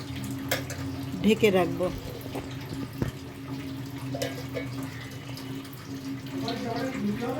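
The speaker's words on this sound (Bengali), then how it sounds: "এবার আমি জল ঢেলে দিলাম" Water is poured into a pot of shahi mutton curry on the stove, a brief splashing pour with a metallic clink, followed by quieter stirring sounds while a person talks throughout.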